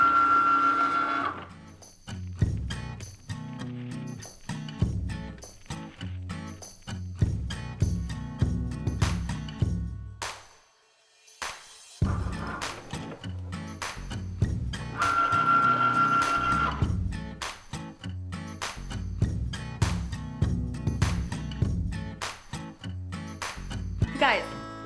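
A Cricut machine writes an address on an envelope in calligraphy, making a close, rhythmic whirring and clicking of stepper motors in quick bursts that pause briefly midway, then resume.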